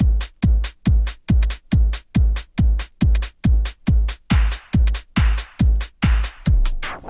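A straight, steady kick-drum beat plays from a vinyl record on a DJ's turntable, evenly spaced thumps about every half second, with brighter hi-hat and synth layers building in the second half, loud and alone.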